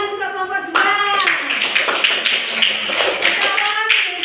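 Children in a classroom clap their hands for a group after a presentation, a dense burst of quick, close claps following a brief sung or spoken tone, continuing steadily to the end.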